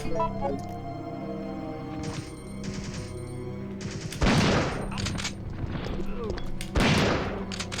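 Gunfire in the Resident Evil 3 video game, with loud sharp bursts of shots and impacts standing out over a droning game background.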